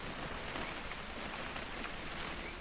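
Steady rain pours down in the video game What Remains of Edith Finch, a continuous even wash of drops at moderate loudness with no voices over it.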